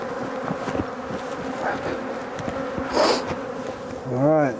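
Honeybees hum around beehive boxes in a dense, continuous buzz close by, with individual bees swelling louder as they pass near.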